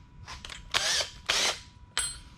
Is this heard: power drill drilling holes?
yes